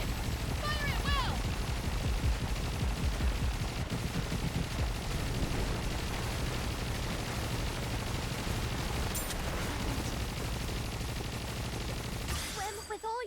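Sustained dense gunfire and explosions from a video game battle roll on continuously under background music and voices, loud and busy throughout.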